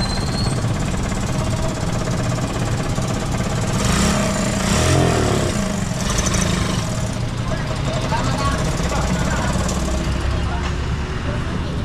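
A motorcycle engine runs steadily up close throughout, a loud continuous rumble with people talking over it.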